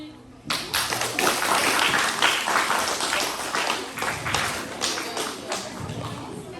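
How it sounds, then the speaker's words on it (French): Applause from a French school audience at a class reading contest, a dense burst of clapping that starts abruptly and holds steady for several seconds before thinning slightly. "Dans celui-là, j'ai entendu les applaudissements."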